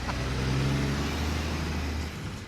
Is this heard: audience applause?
no